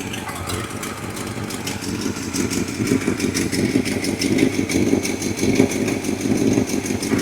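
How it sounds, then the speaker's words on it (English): A 1967 Chevy C20 pickup engine, revived after 12 years, idles steadily nearby with a rough, rhythmic chugging that grows slightly louder, no voices present. "And there it goes. It's idling."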